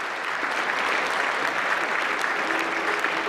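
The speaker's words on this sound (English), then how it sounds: "Let's hear it one more time for this year's winners." Dinner crowd at the White House Correspondents' Dinner applauds the award winners, a brief, dense and steady burst of clapping heard alone.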